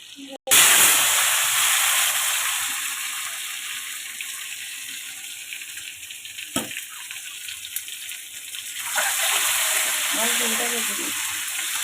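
Potatoes sizzle in hot oil in a wok with cumin seeds, salt and turmeric. A loud, steady frying hiss starts suddenly and holds throughout, with one brief clatter in the middle and a few quiet voices underneath.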